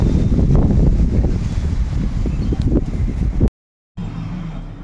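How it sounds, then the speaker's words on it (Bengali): Strong breeze gusting past an open window at home on a sunny day, a loud continuous rushing roar buffeting the microphone, then cutting out briefly before resuming. "দারুণ হাওয়া দিচ্ছে।"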